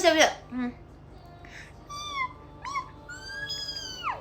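A voice imitates a squeezed cat meowing, producing a string of strained, close-up meow cries that rise and bend in pitch, some short and clipped, others drawn out and wavering.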